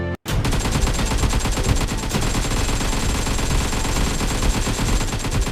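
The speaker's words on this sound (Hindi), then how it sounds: "इतनी सारी गोलियां चलने की आवाज नीचे से आ रही है।" Dense, rapid gunfire rattles continuously from below, loud and sustained like machine-gun bursts after a brief silent break at the start, with no talking.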